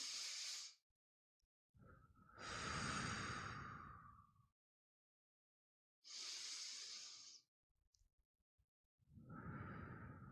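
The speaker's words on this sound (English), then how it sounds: "join with me in taking a deep breath" Slow, deep breathing close to the microphone during a guided meditation pause: long drawn inhales and exhales separated by silence, breathy and soft, with no talk.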